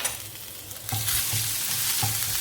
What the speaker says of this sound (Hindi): लहसुन अदरक और जीरे को फ्राई कर लेंगे।